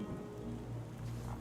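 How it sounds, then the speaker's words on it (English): Steady rainfall in Tainted Grail: The Fall of Avalon, a soft, even hiss of drops over a faint low musical drone, with no voices. "Oh, it's raining."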